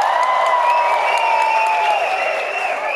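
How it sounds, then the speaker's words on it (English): Practice round of applause from a comedy show audience, a loud sustained burst of clapping with a faint whistle-like tone running through it, filling the whole moment. "we'll try a practice American round of applause"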